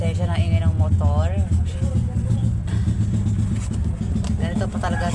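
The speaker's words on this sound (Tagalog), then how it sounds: "Pasensya na ingay ng motor" A motorcycle engine drones steadily in the background, a low continuous rumble beneath a person talking close by throughout.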